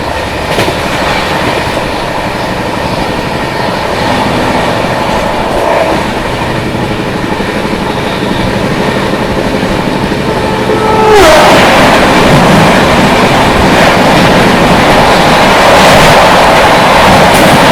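The 12303 Poorva Express passenger train runs on the Howrah to New Delhi line, heard from aboard as a loud constant rumble with rhythmic clickety-clack of wheels over rail joints, growing harsher and louder partway through.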